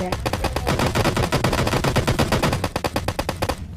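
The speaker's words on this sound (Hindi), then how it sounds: "बस गोली चला दी थी" Automatic gunfire in the video game PUBG Lite, a long, fast, evenly spaced burst of loud shots that runs almost the full length and cuts off near the end.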